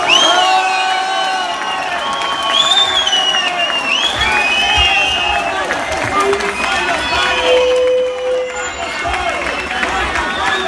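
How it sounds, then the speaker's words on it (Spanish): Concert audience at a rock show in Lugo cheering, whooping and clapping continuously, a dense crowd roar with shouts rising over steady applause throughout. "Quiero que des un fuerte aplauso"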